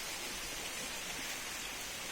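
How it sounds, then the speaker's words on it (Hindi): Spring Waterfall in Verna, Goa, running low outside the rainy season, gives a steady, even rush of falling water, a constant broadband hiss with no breaks and no voices. "वो है वाटरफॉल।"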